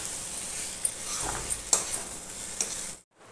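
Mushroom, onion and capsicum stir-fried in a kadhai, a steady hiss of sizzling with scattered clinks and scrapes of a spatula against the pan, ending abruptly in silence.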